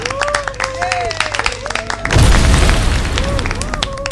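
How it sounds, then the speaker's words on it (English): A thunderous explosion bursts in suddenly and loudly, a deep rumbling blast that cuts off cheering and clapping from a celebrating crowd in a tent. "The cheer was cut short by a thunderous explosion."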